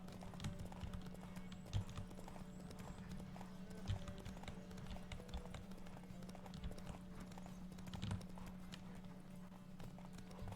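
Rapid rhythmic hoofbeats of a galloping horse in the video game The Witcher 3: Wild Hunt thud steadily, fairly faint, with a few louder strikes and a low droning tone beneath.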